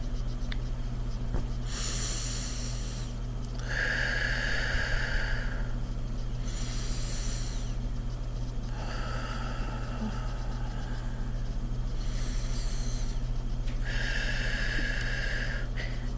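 Three slow, deep breaths, each a long airy inhale and exhale, audible and close, spaced evenly over a constant low electrical hum with no talking.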